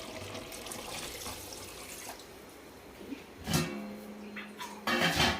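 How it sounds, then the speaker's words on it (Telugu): Water is poured into a pot of simmering goat head curry, a splashing, trickling pour that swells louder in two short bursts near the end. "ఇప్పుడు మనం వాటర్ యాడ్ చేసేసుకుందాం"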